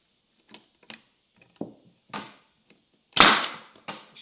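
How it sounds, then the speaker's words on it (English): A brad nailer drives nails into the joined wooden pieces of a hexagon shelf, giving a few sharp, separate snaps followed by one louder, fuller burst near the end, each close and short with quiet gaps between. "Shoot a brad nail."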